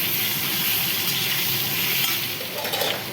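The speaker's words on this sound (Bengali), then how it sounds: "ঢাকা দিয়ে দিয়ে আলুটা ভাজা" Potatoes fry in a pan with a dense, even sizzle that holds steady throughout, close and fairly loud, with an occasional faint clink; nobody speaks.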